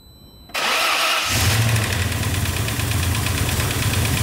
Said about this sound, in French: Mais on peut la démarrer comme ça.